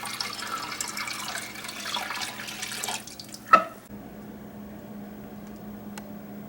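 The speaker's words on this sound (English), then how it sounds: "Got the tank filled up again." Water pours and splashes steadily into a fish tank being refilled during a partial water change, with a brief louder knock midway before the flow settles into a quieter, even trickle.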